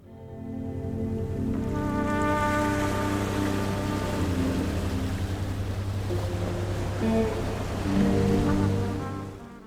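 Steady, dense rain pours down in a very wet village, a continuous loud wash of falling water with a low droning hum underneath and no voices.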